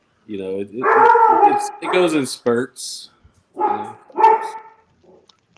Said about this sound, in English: Dang, who's got the big dog, man?